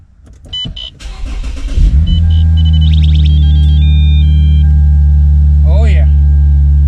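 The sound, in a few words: Lexus IS350 car engine cold start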